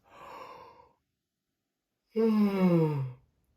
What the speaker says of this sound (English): let's give a nice big yawn